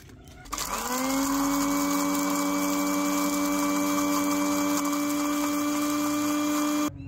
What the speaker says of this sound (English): Run the grinder until the peels turn into fine powder.